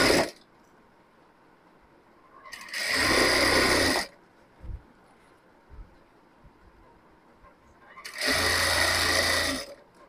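Sewing machine running in two loud sustained bursts of about one and a half seconds each as it stitches a fabric border strip onto a dupatta, with quieter handling sounds and pauses between runs.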